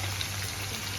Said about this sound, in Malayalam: അതിനായിട്ട് സവോള ഫ്രൈ ചെയ്തെടുക്കാം.